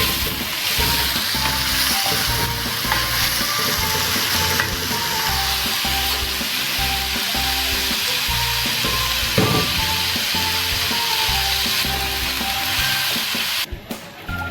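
Onions fry in a karahi with a loud, steady sizzle and crackle, stirred now and then with a utensil scraping the pan, close up and without talk.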